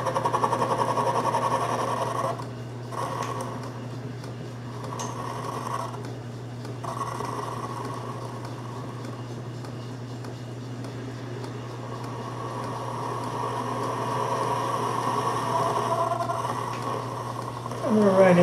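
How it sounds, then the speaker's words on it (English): A metal lathe turns a knurled workpiece with the cutting tool engaged for a taper cut, giving a steady mechanical hum with a constant motor tone and faint rattles throughout. "let's put it back in the lathe"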